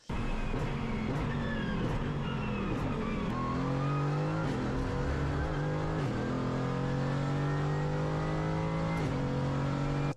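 A Mercedes AMG GT GT4 race car on the 4.7 km Magny-Cours circuit roars loud and close, climbing through the revs and snapping through sharp gearshifts in a continuous run with no talk.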